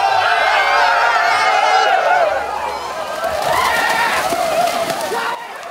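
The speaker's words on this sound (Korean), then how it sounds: "수백 명의 사람들이 수영복만 입은 채 힘찬 함성과 함께 바다로 뛰어듭니다." Hundreds of people in swimsuits shout and cheer as they run into the cold sea at a New Year swim on Jeju, a dense crowd roar with whoops and splashing footsteps.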